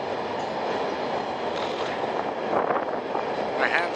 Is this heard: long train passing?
yes